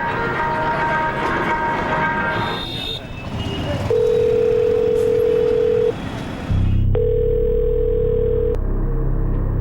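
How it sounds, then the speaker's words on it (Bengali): A telephone rings out in a Bengali crime drama, with two long, steady electronic ring tones after a stretch of background noise, heard over a low droning bed. "সোনুর ফোন সুইচ অফ নয় স্যার, রিং তো হচ্ছে।"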